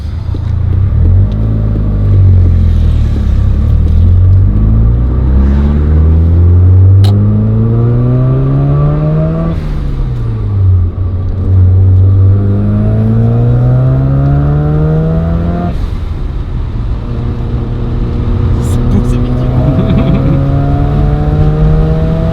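A 1991 Mazda RX-7 Turbo II sports car engine revving up and down through the gears while driving, loud and close, with rising pitch sweeps between shifts.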